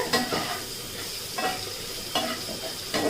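Sliced bitter gourd frying in a pan with turmeric and salt, a steady sizzle broken by several scraping stirs of a spatula at irregular intervals, close and alone.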